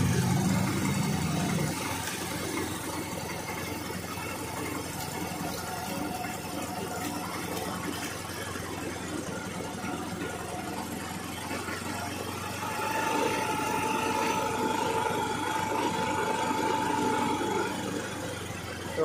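A Honda scooter engine idles steadily up close, a continuous mechanical hum with a faint ticking rattle that holds an even level for the whole stretch, with no talking.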